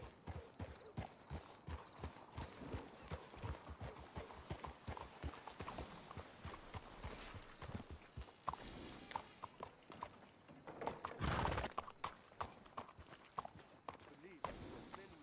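Horse hooves clip-clop in Red Dead Redemption 2, several horses walking in a brisk, uneven rhythm close by, slowing and breaking up midway with a brief louder rush, while voices talk over them.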